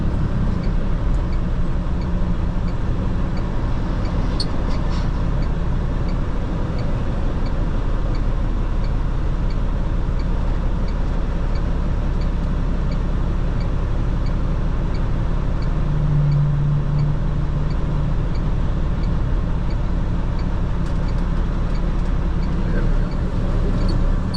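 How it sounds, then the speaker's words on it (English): Heavily loaded work truck straining as it slowly gains speed, a steady low engine drone and road rumble that hold evenly loud throughout with little change in pitch. "truck does not have a whole lot of get up and go with this amount of weight"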